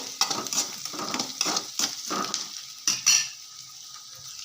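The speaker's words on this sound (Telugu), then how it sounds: "ఆనియన్స్ వేసి కొంచెం మగ్గే వరకు వేయించుకోవాలి" Onions sizzle and crackle in a hot pan while a spatula stirs them in repeated scraping strokes, fairly close, with no talking.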